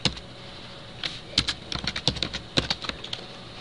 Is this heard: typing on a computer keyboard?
yes